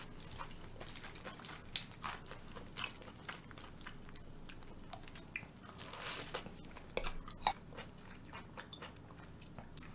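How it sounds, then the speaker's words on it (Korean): Someone eats Goobne Gochu Basasak fried chicken, with soft, irregular bites and chewing crunches repeating close to the microphone over several seconds, fairly quiet and with no talking. "이렇게 먹으니까 뭔가 치킨 한입 먹은 것 같은 느낌이에요"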